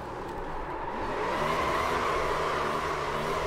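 Sim race car in iRacing, a Gen 4 stock car at Iowa, holding a steady loud engine drone with rising revs during a burnout, continuous and close throughout.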